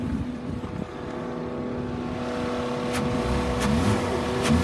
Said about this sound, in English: I'm gonna rev it up so you can hear the engine.